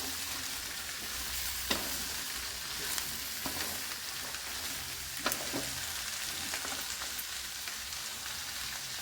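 Pirandai (adamant creeper) sautés in a pan for chutney, a soft continuous sizzle with scattered clicks of stirring, close and quiet, with no voices.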